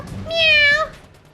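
A single drawn-out cat meow, fairly loud and close, rising then falling in pitch over about half a second, heard alone in a comedy sketch with only faint background noise around it.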